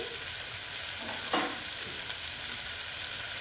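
Eggs and capsicum fry in a pan with a continuous close sizzle, while a spatula stirs and scrapes, including one sharp clatter partway through.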